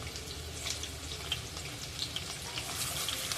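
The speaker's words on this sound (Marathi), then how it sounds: "तेल तापल्यानंतर त्यामध्ये जिरं घालून घेऊया त्यामध्ये कांदा घालून घेऊया" Cumin seeds and a large, lengthwise-sliced onion crackle in hot oil for a jackfruit curry, a steady close sizzle running the whole time with no voices.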